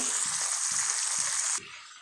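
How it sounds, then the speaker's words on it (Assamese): Fish sizzles in hot oil as it fries for a muri ghonto recipe. The sizzle is a bright, steady hiss with soft regular knocks underneath, and it drops sharply to a quieter level near the end. "আৰু এয়া মই মাছ ভাজি আছোঁ।"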